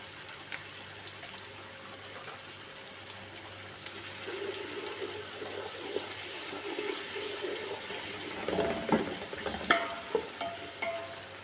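Onions with ginger-garlic paste fry in a pan, a steady low sizzle with stirring scrapes that grows busier toward the end, with a few sharper clinks near the close.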